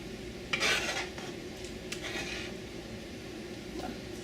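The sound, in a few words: slotted spoon mashing cooked mulberries to press out juice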